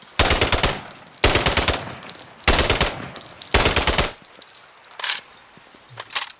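AK-47 automatic fire in the video game Sniper: Ghost Warrior 3, four loud close bursts of rapid shots with brief pauses between them, then a few fainter clanks and single impacts.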